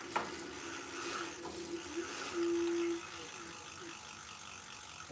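A Ridstar Q20 e-bike motor whirs under throttle, a steady tonal whine that holds for about half a second near the middle, set among mechanical ratcheting and clicking from the bike, close and moderately quiet.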